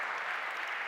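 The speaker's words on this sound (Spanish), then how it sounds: "Le acogemos con un aplauso" Applause fills a conference hall as an audience claps in a dense, continuous wash of hands, steady and even throughout the brief moment.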